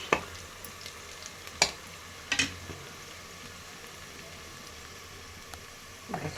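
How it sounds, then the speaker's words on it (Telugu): Mutton added to fried onions in a pan for Andhra style mutton curry, giving a steady frying sizzle broken by a few sharp clatters and knocks spread through the clip, with no voices. "ఇప్పుడు మటన్ అంతా వేసేసుకుందాం."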